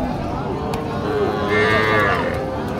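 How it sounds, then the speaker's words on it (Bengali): Sahiwal cattle at a rain-soaked cattle market in Dinajpur: a drawn-out cow moo rising over the steady noise of the crowded market, fairly close. "সুন্দর সুন্দর যেসব শাহিওয়াল গরু এইদিকে দেখা যায় সুন্দর আগানো"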